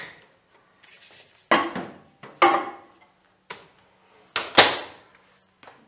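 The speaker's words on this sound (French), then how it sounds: "On va mettre notre pièce dans le four à micro-ondes." A turned piece of green wood goes into a microwave oven with a series of sharp clunks and clicks, several distinct knocks and a door-like bang in otherwise quiet surroundings.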